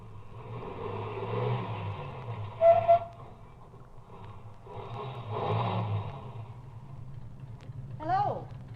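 A car slows, turns around and drives back toward the listener as an old-time radio drama effect, with engine hum rising and falling at mid distance and a brief whistle-like tone, under talk.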